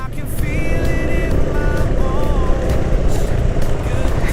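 Motorcycle riding over a muddy, rough road, its engine droning steadily and loudly with bumps and rattles throughout, while a rider talks over it.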